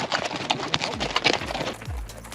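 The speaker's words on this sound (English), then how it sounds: "My horse, Dipu, is a little bit keen to pull ahead and to go up to the front line here" Horse hooves clip-clop on the ground during a leisurely group ride in Saudi Arabia, an uneven run of close, sharp strikes from several animals, with a low rumble near the end.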